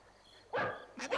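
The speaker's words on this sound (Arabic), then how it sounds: "إنه كلب ينبح" A dog barks twice, two short sharp yaps close by in a quiet setting, with no speech.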